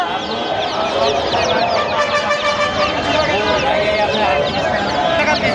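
Many one-day-old Sonali chicken chicks cheep in a dense, continuous chorus at a weekly poultry market in Tongi, loud and close throughout, with market voices talking underneath.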